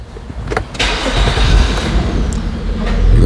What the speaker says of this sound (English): Let me start the car maybe.